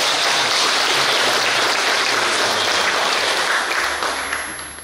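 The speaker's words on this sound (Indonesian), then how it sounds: "Kami memberikan aplaus hormat dan" Dense, sustained applause from a congregation at a church inauguration service fills the space, steady and close, then tapers off near the end.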